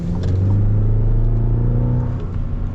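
A 2025 GMC Canyon Elevation mid-size pickup truck pulls hard under acceleration, its engine drone loud and close with a steady rising tone and constant rumble throughout, no voices over it.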